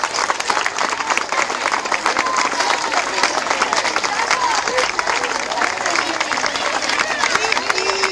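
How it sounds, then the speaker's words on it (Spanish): Loud, dense applause from a crowd, sustained and even throughout with sharp individual claps standing out and a faint murmur of voices underneath. "Fuerte aplauso para ellos."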